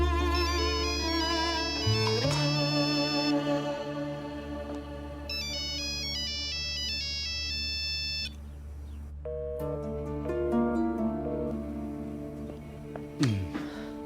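A mobile phone rings in a home kitchen, its melodic electronic tone repeating in bright patterned phrases, fairly loud and close, with a short break before the ringtone resumes.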